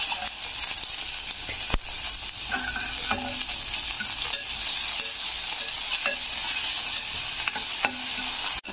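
Chopped onions with garlic paste and green chilli frying in a pan, producing a loud continuous sizzle with occasional scraping clicks from stirring.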